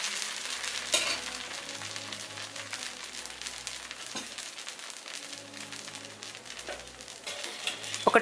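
Dosa batter sizzles steadily on a hot dosa pan, a continuous close frying hiss with soft background tones and occasional clinks, no talking.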